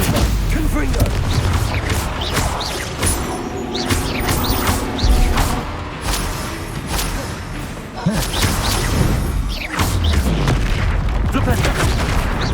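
Spell blasts from a Hogwarts Legacy duel, with dense, loud booms, whooshes and crashes running continuously and overlapping one another, and a voice calling out over the combat.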